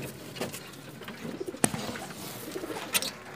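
Young pigeon cooing close by, soft short coos and a few sharper chirps spread over a few seconds against faint background noise.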